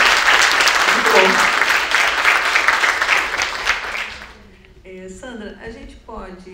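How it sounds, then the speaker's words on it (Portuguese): A crowd at a WordCamp Rio talk gives speaker Sandra strong, dense applause for about four seconds. It then fades out as nearby voices start talking. "Palmas pra Sandra, gente."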